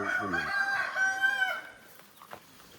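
A native country rooster crows on a farm in Mangalore, one clear, fairly close cock-a-doodle-doo with a rising and falling call, followed by faint quiet farmyard background.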